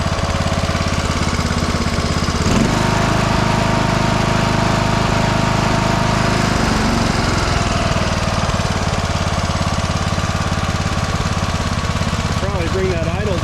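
Craftsman YTS 3000 lawn tractor engine running steadily while its idle is adjusted, a loud close-up mechanical drone whose pitch shifts as the idle changes, with someone talking over it.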